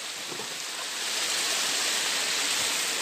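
A mountain stream rushing at a village drinking-water source in the hills of Santook, a dense steady hiss of flowing water, close and loud throughout with no voices.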